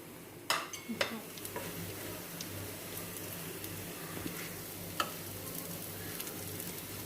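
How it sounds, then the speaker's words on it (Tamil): Vegetable cutlets sizzle steadily in hot oil, with a few sharp clinks of a utensil against the pan near the start and once more later. "நம்ம பொரிக்க வேண்டியதுதான்."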